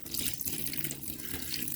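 Liquid vinegar poured from a bottle into a removed distributor cap on a 1996–2000 Chevy Tahoe, a steady close splashing and trickling stream that runs unbroken throughout with no talking.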